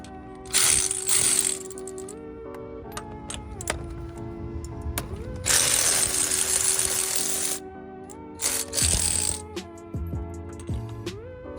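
A ratchet clicks off a bolt on a high-mileage Lexus being prepared for a car show, with bursts of rapid pawl clicking, metallic clinks and short pauses between pulls, close and loud, no voices.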